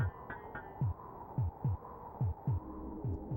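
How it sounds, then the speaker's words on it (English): Heartbeat indicator in the SNES game Populous, a steady low double-thump pulse repeating about every 0.4 seconds over a constant humming background drone, no voices. "what is the heartbeat sound?"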